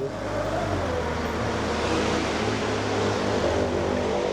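A Komatsu FD15-21 automatic diesel forklift with a 3-metre mast drives and turns tightly, its engine giving a loud, steady, close rumbling drone throughout with no talk.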